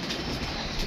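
A female pigeon coos close by, a soft, brief low murmur against quiet background noise.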